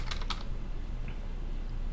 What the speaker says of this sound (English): typing in the word that you want